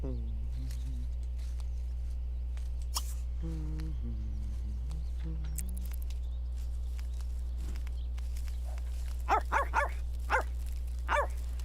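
A pet dog in The Sims 3 gives a few short barks and whimpery yips over a constant low game hum, with a couple of sharp clicks and a brief burst of barking near the end.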